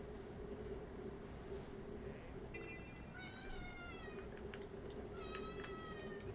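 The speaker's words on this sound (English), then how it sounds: "Apologies for the kitty in the background." A house cat meows several times in the background, drawn-out calls fairly faint behind a steady low hum, with no talk over them.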